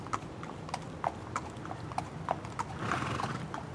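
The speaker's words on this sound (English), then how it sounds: "it's the sound of horses walking on a road" Steady clip-clop of horse hooves striking hard pavement at a walking pace, crisp and fairly close, with a low background hum and no talking.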